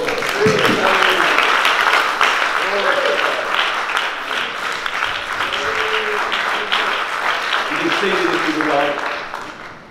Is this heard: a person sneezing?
no